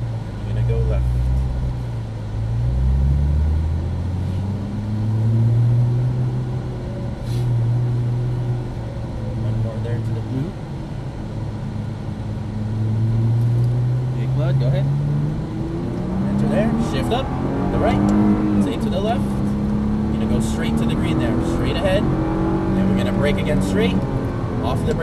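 A Nissan GT-R engine drones on a race track, its pitch rising and falling as it accelerates and shifts through the gears, loud and continuous, with an instructor talking over the engine.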